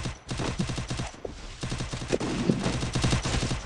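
Rapid bursts of automatic gunfire in the video game Free Fire, dense and loud with short pauses between volleys.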